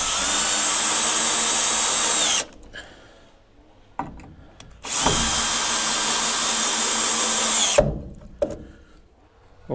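A power screwdriver fastens a metal corner bracket, whirring in two long bursts of a couple of seconds each, separated by quieter clicks and handling noise.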